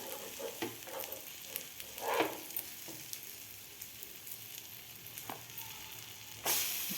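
An egg bread omelette fries in a pan at a fairly soft, steady sizzle, with scattered small pops and ticks and a brief louder burst near the end.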